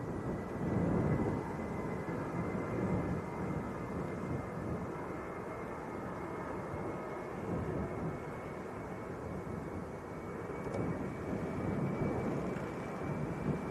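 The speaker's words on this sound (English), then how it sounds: "Right, here we go, Ryanair to Paris." Ryanair airliner departing Leeds Bradford Airport for Paris, a steady broadband roar of jet engines that swells slightly at the start and near the end, sustained and fairly loud throughout with no talking.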